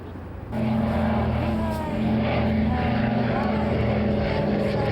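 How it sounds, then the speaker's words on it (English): A propeller aircraft flies at the 2002 Shoreham Airshow, its loud, steady engine drone filling the air while a commentator talks over it. "This is the aircraft, of course, which needs no introduction."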